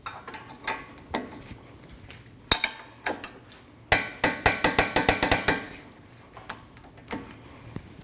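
A ratchet tightens a fastener during a front CV axle replacement on a 2013-2019 Ford Escape 1.5L, giving close, sharp clicking strokes. Single clicks come at first, then a quick burst of repeated ratcheting in the middle, then a few more scattered clicks.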